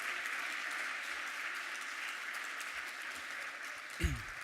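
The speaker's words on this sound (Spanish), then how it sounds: "Por favor, un aplauso para este encuentro" An audience at a candidates' forum on culture and the creative economy gives a steady, moderately distant round of applause, with a brief thump near the end.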